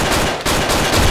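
Rapid overlapping shotgun blasts and game gunfire from Hotline Miami, loud and continuous across the whole moment with dense explosive bursts and no voices.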